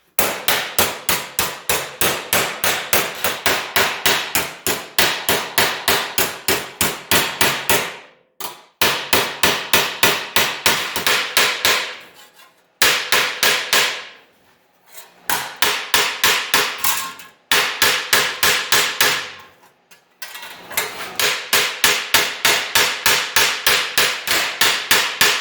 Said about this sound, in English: Now, I'll transfer it over onto this here, and I'll hammer it out, smooth it out,